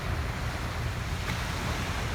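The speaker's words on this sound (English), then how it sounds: "the water only come up so far. And then it goes back down." Ocean waves wash up a beach in a steady, roaring surf with a deep rumble and wind noise on the microphone, continuous and fairly loud, with no voices.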